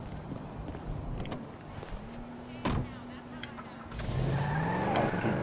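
Car driving in Grand Theft Auto V, a steady engine drone with a brief tyre-squeal-like sweep midway and a louder stretch near the end, under game background noise.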